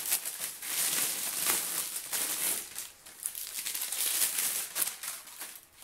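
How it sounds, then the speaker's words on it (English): Wrapping being pulled off an RPG-7 propellant charge, giving a continuous close crinkling and crackling of packaging material, fairly loud and steady with short bursts of sharper rustles and no talking. "before going to mission, you will just unwrap it"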